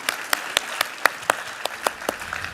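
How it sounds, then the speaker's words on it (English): Conference audience at the FII8 plenary applauds His Excellency Fahd Rashid, a handful of sharp, close claps ringing out one by one over softer scattered clapping. "Ladies and gentlemen, a round of applause for His Excellency Fahd Rashid."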